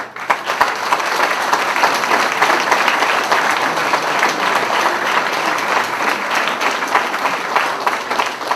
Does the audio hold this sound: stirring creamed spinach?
no